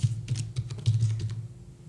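Quick bursts of keystrokes on a computer keyboard, a short run of close, crisp clicks typing out a single word.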